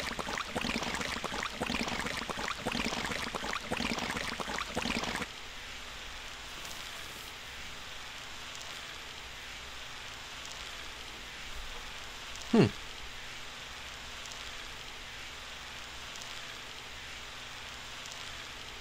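Rain in the video game Sonic Adventure DX: steady hiss of rain for several seconds, then a softer, quieter rain ambience with a single brief sharp sweep midway.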